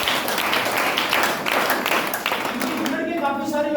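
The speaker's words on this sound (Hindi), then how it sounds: "इनके लिए जोरदार ताली होनी चाहिए।" An audience applauds loudly for a top business leader at a Sunday venue closing event, a dense steady wash of many hands clapping throughout, with a faint tonal sound rising near the end.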